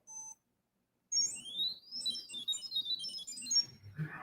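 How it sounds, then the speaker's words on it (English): A chirpy watch face beeps out data through a piezo buzzer: a short tone, a pause, then a rapid warbling run of high pitched chirps and sweeps, close and fairly quiet. "a really cool chirpy watch face that uses the piezo buzzer to beep out data"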